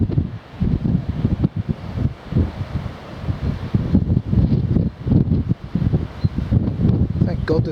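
Gusty wind buffets the microphone on a coastal clifftop walk from Folkestone toward Dover, a loud rumbling roar that swells and dips continuously.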